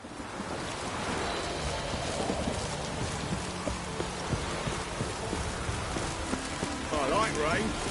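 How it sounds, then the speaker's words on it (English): Steady rain hisses across the scene in The Witcher 3, a dense continuous patter with faint clopping hooves and a voice speaking over it. "I like rain"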